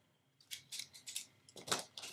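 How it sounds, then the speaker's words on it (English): Scalloped and pinking scissors snip paper scraps for card embellishments in a series of close, crisp cuts, roughly eight quick snips in a steady rhythm with no talking. "I'm going to be using these scalloped scissors and the pinking scissors also"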